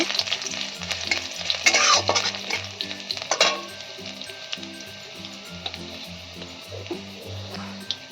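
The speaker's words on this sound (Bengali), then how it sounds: "এখানে 4 কোয়া রসুন কুচি কুচি করে নিয়েছি। রসুনটাও হালকা ভাজা করে নেব।" Four cloves of finely chopped garlic fry in a pan, a loud, close sizzle broken by repeated scraping stirs, busiest at first and then settling into a steadier crackle.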